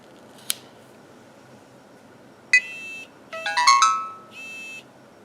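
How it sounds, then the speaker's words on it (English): A brief click, then a short electronic beep sequence of several rising tones, followed by one final beep: a VeriPic 1 body-worn camera's stop-recording tone, clear against quiet background hiss. "A distinctive tone indicates that the recording has stopped."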